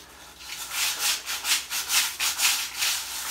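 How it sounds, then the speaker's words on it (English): A brush scrubs a grimy, greasy, moldy basement wall after a borax and warm water treatment, with rhythmic back-and-forth strokes about twice a second, close and with no talking. "Next, you get a brush, something like this, okay, and just scrub it down."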